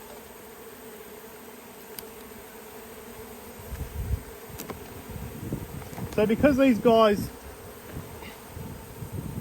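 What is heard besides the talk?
honey bees buzzing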